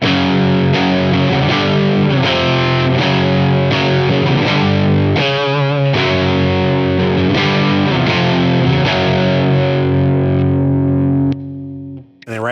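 Overdriven electric guitar riff with chorus effect, run through a Visual Sound Open Road overdrive pedal, plays loud and continuous with steady picked rhythm, then cuts out abruptly near the end.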